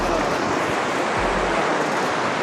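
Water of a river or stream in a forested mountain valley flows steadily nearby, a dense, even rushing hiss with a low rumble underneath, continuous throughout.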